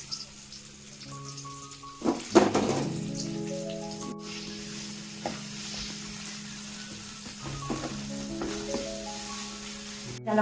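Onion paste tipped into a pan with cumin and cinnamon, bursting into a sharp sizzle that settles into steady crackling, with stirring clatters and brief bright utensil clinks.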